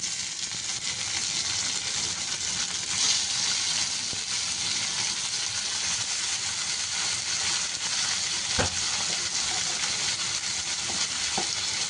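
Chopped tomato frying with browned onions in a pan for a Marathi vagich bharit, a steady close sizzle and crackle throughout with occasional stirring clinks, no talking.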